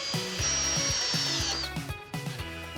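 A power drill driving anchor bolts into existing tile, with bursts of high motor whine and several short drilling pulses against a steady, loud background hum, no talking.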